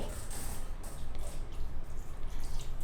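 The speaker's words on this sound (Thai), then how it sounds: "ให้เปียกให้ทั่วเลยนะคะ โดยการฉีดน้ำเข้าไปได้เลย" Water sprayed onto the filter layer of an Airdog X5 air purifier to wet it for cleaning: a continuous, fairly faint hissing splash with small drips, with no pauses.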